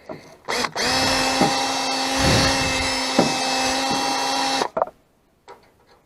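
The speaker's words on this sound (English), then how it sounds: "Let's take the drill back into it again one more time" An electric drill whirs steadily for about four seconds with a few brief pitch dips, then cuts off, leaving near silence, during repair of a wiper switch on a 1977 GMC Sierra.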